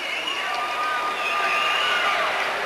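A packed basketball arena crowd roars and cheers at Riverfront Coliseum during the 1987 NCAA Tournament Midwest Regional semifinal between Indiana and Duke, a dense, steady wash of voices with a rising tone sweeping through it.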